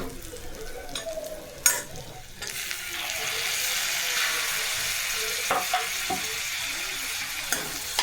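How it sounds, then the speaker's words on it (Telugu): Tomatoes fry in a pan for Maggi soup, a steady close sizzle that swells after a couple of seconds, broken by a sharp clink and scattered scrapes of stirring. "ఇప్పుడు టమాటాస్ వేసుకుంటున్నాను."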